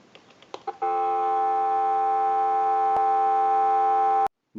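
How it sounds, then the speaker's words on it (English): A telephone line analyzer sends a steady, unbroken dial tone into an animated Mickey Mouse telephone, following a few faint clicks and cutting off abruptly near the end. "And we'll go ahead and give you some dial tone."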